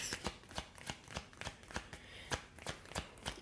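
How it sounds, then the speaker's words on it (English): Tarot cards shuffled by hand, a quick run of crisp riffling flutters in an uneven rhythm, close and fairly quiet, with no voices. "So those cards were kind of juggling a bit in my hand"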